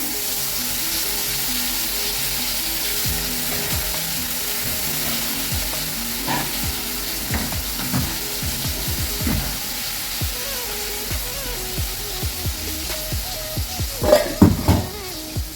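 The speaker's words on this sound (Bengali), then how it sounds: "এই যে পুর এখন ফোড়নে বসিয়ে দিলাম।" Karkol filling is tempered in hot oil, frying with a constant sizzle while a utensil scrapes and clinks against the pan, the clatter growing louder near the end.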